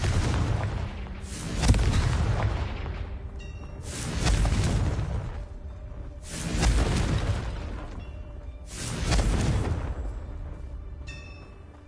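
A Confringo explosion spell cast in a video game sets off four heavy booming blasts, each a deep roaring burst that swells and fades over a couple of seconds, spaced evenly apart.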